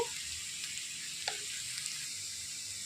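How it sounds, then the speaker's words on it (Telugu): Onions sautéing in oil with a little salt and turmeric for a tamarind-leaf curry, a soft, even sizzle with one brief clink of a utensil, nobody speaking. "ఉల్లిపాయలు అనేవి బాగా వేగాయండి."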